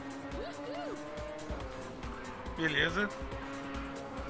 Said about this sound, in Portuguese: ver todos os carros fazendo a curva juntos ali, todo mundo fazendo drift junto